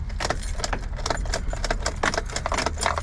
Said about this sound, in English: I'll put the key in right now so you guys can see.